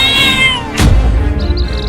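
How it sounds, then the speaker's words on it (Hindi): A cartoon mother cat fights a lion to protect her kittens: a drawn-out, wavering cat yowl gives way to a sudden loud crash and a rough, roaring scuffle, with a thin cry rising again near the end. "उन बिल्लियों की माँ उस शेर से लड़ गई है अपने बच्चों को बचाने के लिए।"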